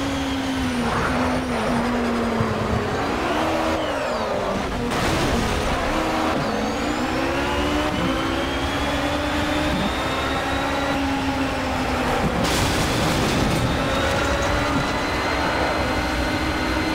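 Continuous loud engine roar from a hybrid race car in the video game Project Cars, with a droning, jet-like tone that rises and dips, plus occasional whooshing bursts, no voices.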